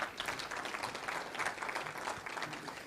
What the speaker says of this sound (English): a round of applause for GOLO